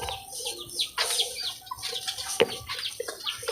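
A brooding mother hen with five eggs clucks in short, close, irregular bursts, with sharper chirps and rustling around her and no one talking.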